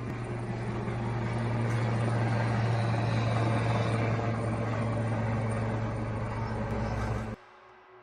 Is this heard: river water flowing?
no